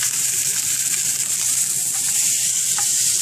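A rib eye steak searing on a grill hisses with a loud, constant, close-up sizzle that holds steady throughout.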